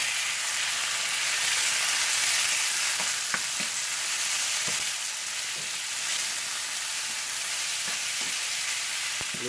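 Chicken frying with garlic in a pan, a steady loud sizzle and crackle throughout with occasional sharp pops and stirring clicks, no voices.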